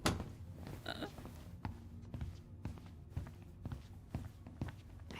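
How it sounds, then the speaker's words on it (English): Footsteps in the video game Tell Me Why, a steady series of soft thuds at walking pace, close by, with faint ambient background and no talking. "Do they not hear the footsteps up here?"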